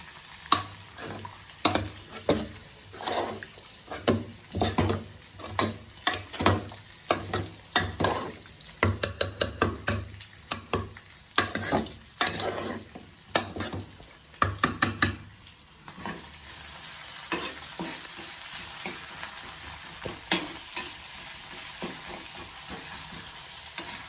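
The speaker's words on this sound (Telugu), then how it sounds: "ఆనియన్స్ ఎగిపోయినాయి, బాగా ఫ్రై అయిపోయినాయి." Onions fry in a pan under a steady sizzle while a spoon stirs and scrapes them in a quick rhythm of sharp, close clacks, which fade to plain sizzling near the end. No one talks.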